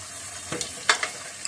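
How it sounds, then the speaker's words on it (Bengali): Onion, garlic, ginger and spices drop into hot oil and fry, a soft hiss broken by a few sharp crackles and pops close by. "এবার এই তেলে মশলাটা ছেড়ে দিই"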